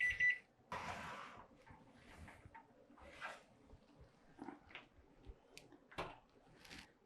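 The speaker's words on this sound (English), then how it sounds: "our timers went off" Kitchen timer alarm going off during bread baking, a short burst of high beeps at the very start, followed by quiet kitchen rustling and handling noises.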